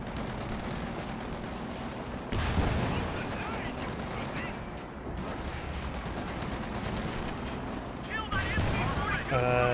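Sustained machine-gun fire from an MG42 in Company of Heroes 2, dense rattling bursts running continuously with heavier volleys and battle noise layered over it, loud and close throughout.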